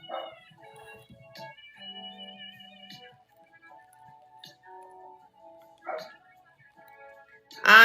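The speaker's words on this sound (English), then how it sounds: "Lord, Onyx out there barking." A dog barks outdoors in a few short, separate bursts at a middle distance. Quiet tonal sounds and soft voices fill the gaps between the barks.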